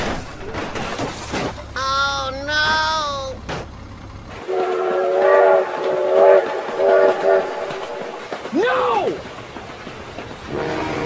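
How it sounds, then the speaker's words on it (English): Toy Thomas-style train running over speed bumps with long toy cars, giving a loud whistle-like toot early on, then rattling clatter and another whistle tone, with excited voices shouting around it. "Oh my god, train!"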